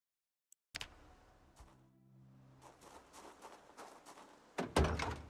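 Zombie banging inside a building in the video game Project Zomboid: scattered dull thuds and knocks against a door, growing into heavier slams near the end, set against a low droning ambience.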